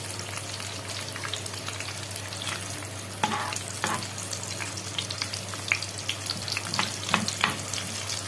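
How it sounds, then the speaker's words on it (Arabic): Bread frying in native clarified butter (samna baladi) in a pan, alongside a liver dish being prepared: steady close sizzle with scattered crackles and occasional stirring clatter, no talk. "هنسيبها تاني كده ونحمر عيش"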